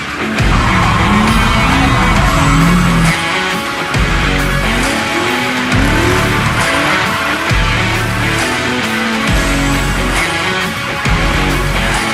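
A car drifts during drift training, engine revving loudly in repeated surges while tires squeal and skid in rhythmic bursts, each pass roaring up then cutting off briefly before the next.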